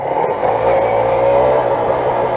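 A two-stroke 125cc motorcycle engine drones loud and close, holding a steady, buzzing pitch as it pulls under acceleration, with no talk over it.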